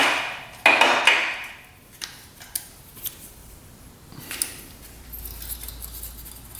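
Metal tools clink and tap against a Honda ATV engine while a bolt is tightened during a valve adjustment, with a loud burst of clattering early on and then scattered sharp, close knocks and scrapes.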